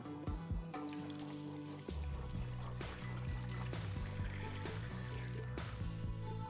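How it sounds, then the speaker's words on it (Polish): Water being poured into a pot to cover meat and vegetables for a poultry aspic, a soft continuous trickling and splashing, faint and close, with occasional clinks. "I teraz zalewam to wodą, tak by przykryła mięso i warzywa."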